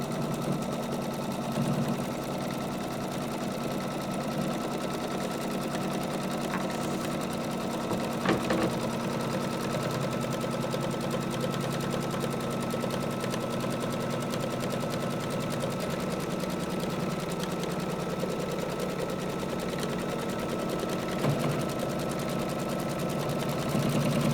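An embroidery sewing machine stitching a Kimberbell project runs steadily with a continuous mechanical hum and rapid needle chatter, a few small clicks standing out, with no talking.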